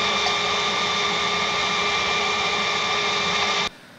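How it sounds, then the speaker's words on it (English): An IBM 1403 line printer runs continuously with a loud, dense mechanical whirring clatter and steady tonal hum, then stops abruptly near the end. "this is an IBM 1403 printer, and when the printing process making so much ambient sound."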